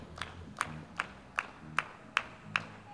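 An audience on a sidewalk claps along to a live jazz-soul performance, about eight crisp, evenly spaced claps over soft, low music.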